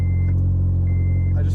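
Acura RSX running with Skunk2 Racing parts installed, a steady low engine drone with a strong hum throughout and a faint tonal whine on top, close and continuous with no clear rev rise.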